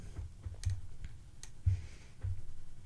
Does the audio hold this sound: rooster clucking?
no